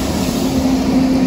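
A train sits at Roma Termini station, giving off a loud, steady hum with a sustained low drone, heard close and unbroken with no voices.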